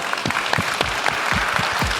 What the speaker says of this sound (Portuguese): Gente, muito obrigado, uma salva de palmas.